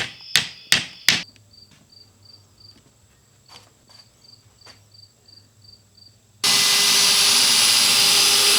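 A hammer drives a small nail through plywood during a wall install in a Dodge ProMaster 2500 van, with three sharp, close strikes and then several lighter taps. After that a loud, steady rushing noise takes over.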